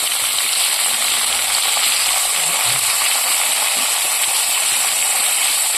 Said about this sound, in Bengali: এবার আমি এর মধ্যে পেঁয়াজ আর একটা রসুন কুচনো দিয়ে দিচ্ছি।